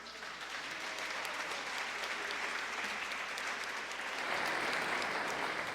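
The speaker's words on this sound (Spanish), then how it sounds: "un gran aplauso para nuestras compañeras" Sustained, dense applause from a crowd, steady throughout and swelling slightly louder near the end, with no voices rising above it.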